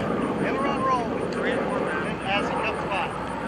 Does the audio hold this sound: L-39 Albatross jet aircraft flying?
yes